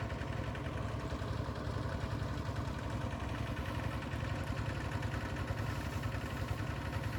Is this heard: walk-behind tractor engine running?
yes